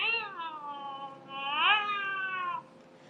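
A woman imitates a cat with two drawn-out, rising-and-falling vocal meows, close and clear against a quiet background.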